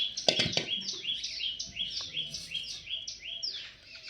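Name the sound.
parrots chirping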